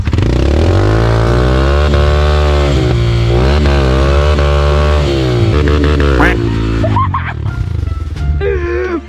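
Motorcycle engine revving hard and steadily with the clutch held in, loud and close throughout, its pitch rising and falling in long sweeps while voices shout over it near the end.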